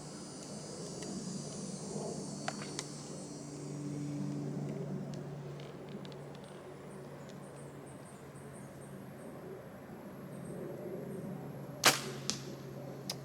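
An arrow shot from a bow fitted with an HHA sight strikes the target, landing as a single sharp impact near the end against a steady low outdoor hum.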